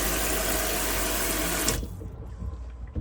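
Water gushes steadily from a campervan sink tap in a Swift Rio, loud and close, then cuts off abruptly, leaving quiet room tone with faint handling noises.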